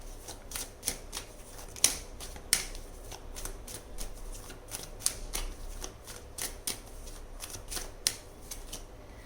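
Tarot cards are shuffled close up in a quick run of crisp riffles and soft flicks, with sharper snaps scattered throughout and no voices.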